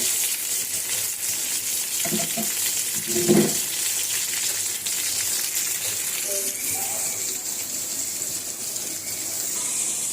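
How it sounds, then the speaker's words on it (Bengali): Potatoes fry in a pan with a soft, steady hiss that runs throughout, and a few faint clinks appear near the start. "তো এই যে আলুগুলো ভাজতেছি আপনাদের"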